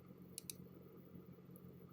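Computer mouse clicks while tracing a selection with Photoshop's Polygonal Lasso tool: a quick pair of sharp clicks and then a single later click, faint and close, over a low steady hum.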